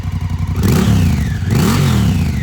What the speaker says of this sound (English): here's an exhaust note as well